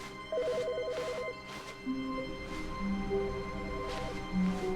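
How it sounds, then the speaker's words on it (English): An in-game telephone rings in The Stanley Parable 2: Ultra Deluxe, repeated electronic ring bursts alongside tonal game music and a low ambient hum, fairly quiet with no talking. "Why is that telephone ringing now?"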